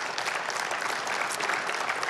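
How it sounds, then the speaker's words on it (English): A church congregation at Southeast Christian Church claps steadily, a thick and even wash of hands filling the whole moment without a break. "you can clap for that."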